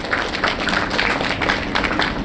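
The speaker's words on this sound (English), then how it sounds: "A round of applause." Applause from the audience at a medical conference inauguration, a close, fairly loud spell of clapping with individual claps standing out in an uneven rhythm.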